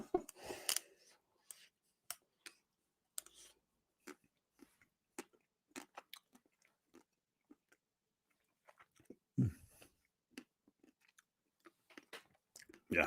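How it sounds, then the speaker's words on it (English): Crunchy chewing while eating ice cream, a string of sharp, close, quiet crunches and bites at irregular intervals, with a louder burst near the start and brief whispery sounds between. "Excuse me, crunching, ASMR crunching sounds."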